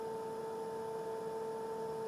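Cooling fan of a Gysmi 190 welding inverter, a non-original replacement, running steadily with a constant hum and slightly wavering speed, alone with no talk.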